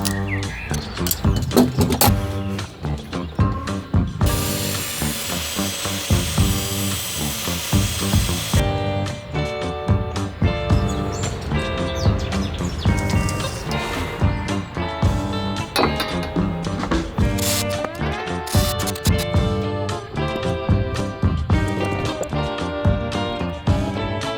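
A power saw cuts wooden pillars for an adventure van build box: close, whining bursts of the tool start and stop repeatedly, with a longer, hissing stretch of cutting early on and no voices.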